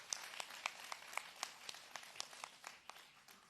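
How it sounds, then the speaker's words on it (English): Sparse, distinct handclaps from an audience at a Kathak dance debut, individual claps landing in an uneven rhythm, quiet and thin rather than a full ovation. "let's have a big round of applause for her grandparents"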